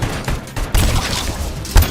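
Gunfire in the video game RoboCop: Rogue City, several loud close shots and a rattling fusillade punctuating the short stretch, with a heavy final blast.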